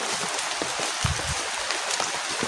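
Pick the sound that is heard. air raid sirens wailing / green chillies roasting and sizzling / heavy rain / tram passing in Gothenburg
heavy rain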